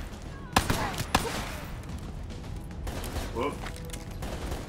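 Gunfire in the video game Black Ops III comes as a couple of sharp close shots followed by scattered distant firing and mechanical clatter, while a player briefly calls out.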